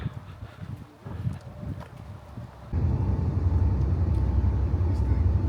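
A tour bus engine runs on a glacier and wildlife tour in Alaska, first a faint rumble under ambient sound, then a loud, steady low drone from about the midpoint onward as the bus gets going.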